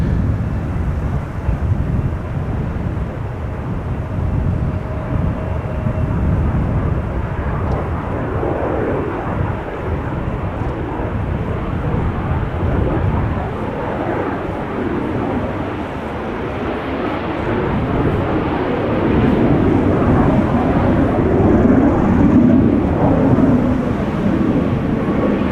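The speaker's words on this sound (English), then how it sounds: "There was a BizJet taking off just now." A business jet taking off at Amsterdam Schiphol Airport, a steady distant roaring rumble that slowly swells and grows louder toward the end, alone with no voices.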